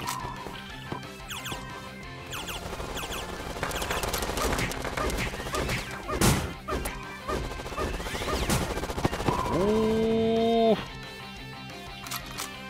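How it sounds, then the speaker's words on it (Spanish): Rapid gunfire bursts and crashes from a machine gun in the Panty Party shooting game, loud and dense with a sharp impact midway. Excited talk runs over the shots, and a rising tonal game sound comes near the end. "una ametralladora."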